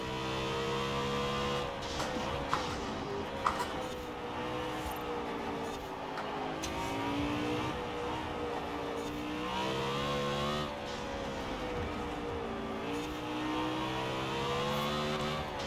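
A BMW M3 GTS with twin turbos revs hard in Forza Horizon 4, its engine note climbing and falling steadily throughout without pause, loud and close with no talking.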